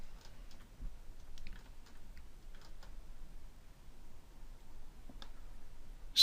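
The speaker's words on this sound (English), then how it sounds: "Excuse the noise of my creaky keyboard." Someone types on a creaky computer keyboard, producing faint, sparse, irregular clicks and taps over a quiet room hum.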